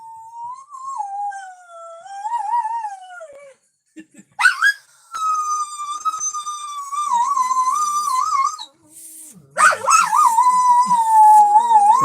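A dog howls alone in long, wavering tones, with a short pause midway before a second, louder stretch of howling joined by yips, close and clear.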